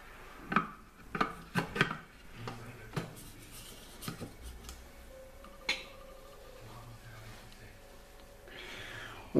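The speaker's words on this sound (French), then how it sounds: "On va insérer le couvercle et le gobelet doseur." A Thermomix lid and measuring cup being fitted in place, with a series of sharp plastic clicks and knocks, scraping handling sounds, then quieter rustling.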